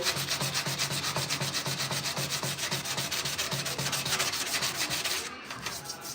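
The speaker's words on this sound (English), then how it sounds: "I got some 180 grip wrapped around this piece of Scotch-Brite. So we're gonna hit this bad boy right here. We're gonna sand it down." Hand sanding a steel 1968 C10 grill shell with 180-grit paper wrapped around Scotch-Brite, a close, steady back-and-forth rasping in even quick strokes that stops briefly near the end.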